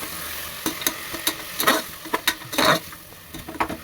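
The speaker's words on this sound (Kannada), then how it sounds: "ನಾನು ಈ ಥರ ಮಿಕ್ಸ್ ಮಾಡಿ ಹುರ್ಕೊತಾ ಇದ್ದೀನಿ." Ground masala paste stirred and fried in hot oil in a pan for a sambar, with soft sizzling under repeated scraping strokes of a spoon at close range, no talk.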